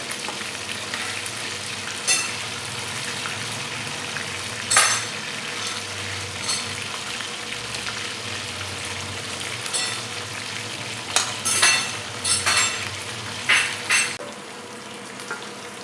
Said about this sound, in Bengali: এরকম পাল্টি মারতে থাকতে হবে, তাহলে সব দিকেই সমান ভাজা হবে।